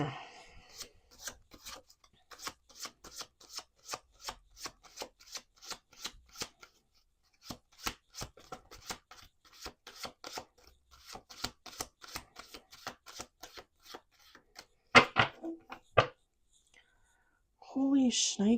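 Tarot cards are shuffled in a steady run of quiet, crisp riffling and sliding taps, close and soft, with whispered talk over them.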